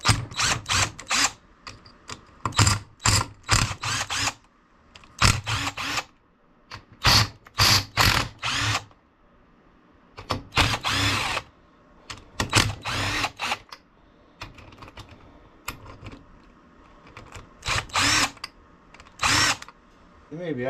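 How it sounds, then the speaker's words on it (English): A power tool removes bolts from a Briggs and Stratton small engine in loud, close bursts. Short drill-like runs and ratcheting whirs are separated by brief pauses, and no one speaks. "We're going to take these bolts out."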